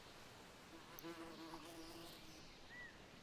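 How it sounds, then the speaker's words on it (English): Insects buzz faintly and steadily in the tropical island survival video game Lost in Tropics, a thin droning hum running through the scene with a few brief tonal game sounds over it. "Oh, I heard some buzzing."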